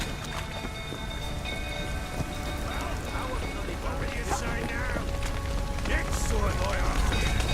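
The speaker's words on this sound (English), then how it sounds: "Looks like rain." Steady rain pours down in the video game The Witcher 3 with a constant hiss of drops on surfaces, with a low rumble underneath and a few faint bright tones and sounds mixed in.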